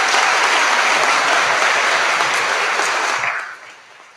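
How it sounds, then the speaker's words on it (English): Audience applause at a Class of 2024 scholarship ceremony, a loud, dense wash of clapping that holds steady and then fades out near the end. "That deserves a round of applause."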